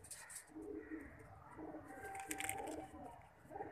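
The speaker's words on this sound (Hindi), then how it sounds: "ब्रीडर कबूतर ही भाई, आपको ये कबूतर दिखाता हूँ।" Breeder pigeon of the Dabas breed cooing close by, a soft throaty coo repeated through the short stretch with faint chirpy bird sounds behind it.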